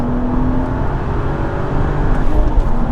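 A tuned BMW 135i with a limited-slip differential, heard from inside as its engine pulls hard under acceleration, a loud steady drone with a rising tone and no talk over it.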